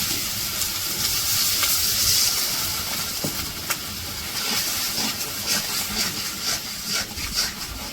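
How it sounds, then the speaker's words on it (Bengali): Spiced paste for a village-style chicken curry sizzles and crackles steadily in a hot pan, a continuous close frying hiss with occasional sharper pops and scraping stirs. "এখন মশলাগুলো ভালো করে কষিয়ে নেব"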